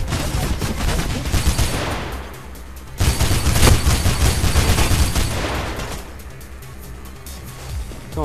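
Loud gunfire rattles in the Mirror's Edge video game, with dense overlapping shots in two heavy stretches separated by a brief dip, fading toward the end.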